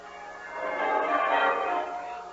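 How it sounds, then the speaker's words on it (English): Town church bells peal as a theatre sound effect for a bright morning scene, a steady ringing wash that swells and fades over a couple of seconds. "the bells of the town pealing out there beyond his window"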